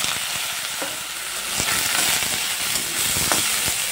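Washed soybean chunks fry in hot oil in a kadai, giving a dense, continuous sizzle broken by occasional sharp spatula scrapes and clicks.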